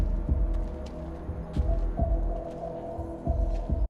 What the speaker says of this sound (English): The music's in that heartbeat thing.